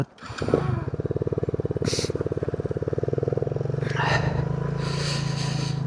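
A motorcycle idles and runs in a steady rhythmic putter while out on winter ice, the engine close and constant, with brief faint voices and bursts of wind noise.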